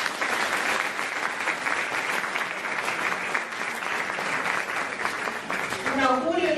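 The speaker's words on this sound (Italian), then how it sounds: "Un applauso di coraggio." Audience at an anniversary ceremony for a school applauds continuously and densely throughout, with a voice starting to speak near the end.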